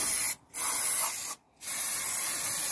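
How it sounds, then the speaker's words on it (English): Brake cleaner sprayed onto a Rover front brake caliper to strip grease and contamination, heard as two steady aerosol hisses separated by a short pause, close and loud, with no talking. "there's a little bit of brake cleaner just to get any contamination and grease off"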